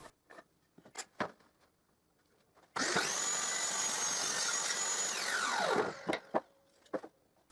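A power saw cuts through a wooden workpiece, a loud steady whine lasting about three seconds that winds down at the end, framed by scattered knocks and clatter from handling the wood before and after.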